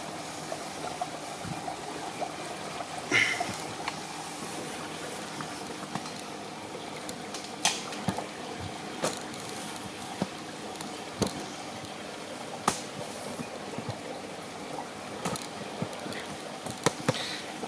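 Water runs steadily from a Mantis self-filling top-off device, a soft continuous wash with scattered small drips and clicks, close by with no voices.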